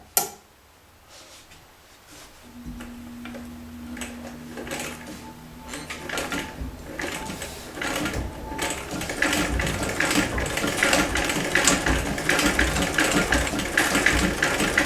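A vintage Singer 206K sewing machine stitching slowly through eight layers of heavy denim with a straight stitch, a close mechanical clatter that starts softly and builds into a steady rapid ticking rhythm.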